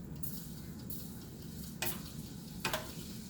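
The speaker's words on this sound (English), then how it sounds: "Give it a little stir." Elderberry syrup being stirred with a spoon in a pot: a soft, steady swishing bed with two brief louder scrapes or clinks of the spoon against the pot, no talking.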